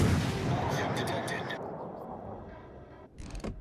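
Battleship gunfire in the World of Warships Legends video game, heard as a loud sustained booming rumble from a naval gun salvo that slowly fades, followed by a short burst near the end.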